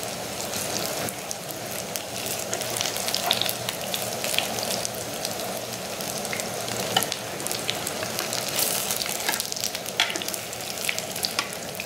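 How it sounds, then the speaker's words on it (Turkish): Meatballs sizzle steadily in hot oil, a constant crackling hiss with occasional sharper pops and faint utensil clinks, close and continuous. "Daha çok bekletip daha çok kızartabilirsiniz."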